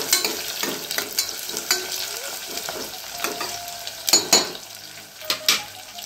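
A spatula stirs spiced rice with fresh pigeon peas frying in a pan. Soft sizzling runs under irregular scraping strokes and a few sharper clinks against the metal, close and clear, with no talking.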